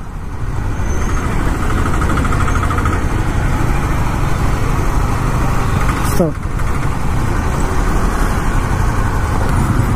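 Dense city traffic leaving Hyderabad on a patchwork road, a loud continuous rumble of idling and moving engines with a brief whooshing pass midway.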